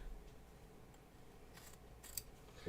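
Scissors snip through embroidered appliqué fabric on an in-the-hoop haunted house quilt block, giving a few quiet, crisp cuts in short bursts against a near-silent background.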